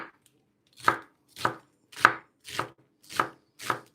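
Celery stalks chopped for vegan split pea soup: six evenly spaced knife strokes on a cutting board, crisp and close, each a sharp crunch followed by a brief pause, with no talking.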